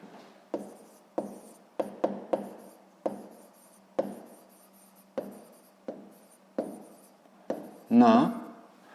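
Someone writes by hand on paper during a sixth-grade maths exercise, the pen making short separate scratches and taps at irregular intervals, close and fairly clear, followed by a brief burst of voice near the end.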